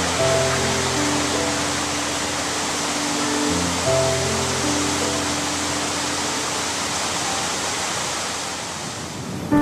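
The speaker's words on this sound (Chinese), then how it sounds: "静静地听着顺流而下的溪水，让水声自然流入流出" A mountain stream at a quiet Dharma Drum Mountain retreat, flowing downstream as a steady, full rushing wash of water, with faint sustained tones humming underneath throughout.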